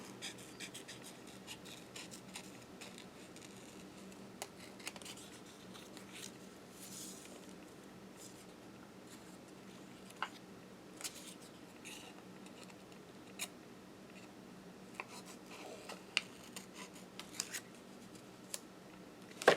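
Scissors cut paper for a handmade watercolor flower card, heard as faint, close snips and paper rustles scattered over a quiet background, with no talking.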